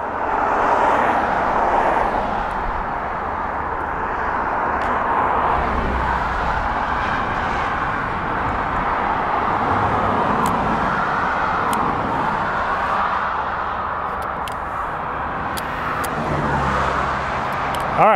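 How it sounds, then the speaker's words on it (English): Cars passing on a bypass road, a continuous broad rumble of traffic with swelling and fading engine and tyre noise over the whole stretch, fairly loud and close, with no talk. "we're gonna wait for a pause in traffic so we don't have any sort of cars going through the shot"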